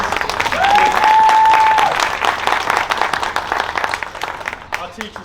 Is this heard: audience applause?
yes